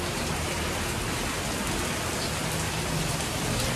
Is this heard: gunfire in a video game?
no